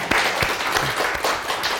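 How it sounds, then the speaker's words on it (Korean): A church congregation at a baptism service gives a loud, vigorous round of applause. Sharp claps pile up into a continuous close-range patter that holds without letup and has no talking over it. "와, 좀 대단한 박수 한번 쳐줘요."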